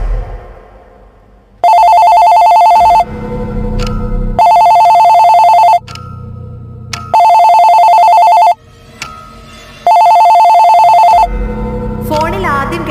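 A telephone rings in four long, loud electronic bursts separated by short gaps, with a low hum under each ring, before the call is answered.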